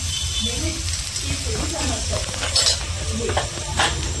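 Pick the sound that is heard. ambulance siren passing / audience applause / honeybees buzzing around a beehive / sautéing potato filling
sautéing potato filling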